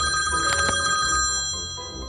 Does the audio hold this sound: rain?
no